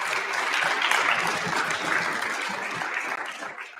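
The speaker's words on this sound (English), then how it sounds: "we have one more round of applause for our award winners for second quarter" Audience at a school quarterly awards ceremony applauding student award winners, a full, dense round of clapping that swells, holds steadily, then tapers off near the end.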